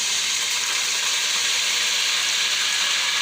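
Garlic-ginger paste sizzles in hot oil in a pan, a steady, bright, hissing fry that holds evenly throughout, close up with no one talking.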